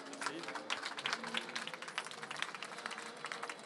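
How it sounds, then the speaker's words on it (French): An audience applauding at a regional business event, a dense, even patter of many hands clapping together, fairly faint and steady throughout. "on peut les applaudir bien fort"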